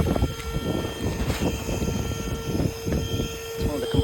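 A TOPUMP TPS300 electric inflatable pump runs nearby with a steady high-pitched whine over a rough, fluttering motor drone.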